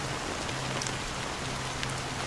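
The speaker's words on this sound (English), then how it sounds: "So, how long has this rain been going on for?" Steady rain in the video game Honkai: Star Rail, a dense, even hiss of falling drops with faint patters, continuous and moderately loud, with no voices.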